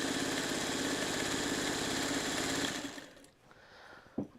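Sewing machine stitching the binding on a Trellis Garden quilt, a steady high whirring run for nearly three seconds that stops abruptly, followed by quiet handling noise and one small click.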